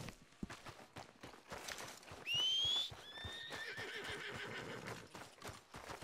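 A horse in the Red Dead Redemption 2 video game gives a clear, rising whinny amid a steady clip-clop of hooves on the move, the neigh standing out loud and close.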